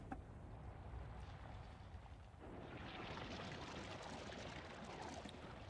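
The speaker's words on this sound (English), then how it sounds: "Water's coming down." Water pours down steadily in the video game Paper Mario: The Thousand-Year Door, a continuous rushing wash that swells slightly partway through and plays alone.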